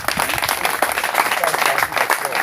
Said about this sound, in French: Applaudissez pour vous comme vous avez entendu.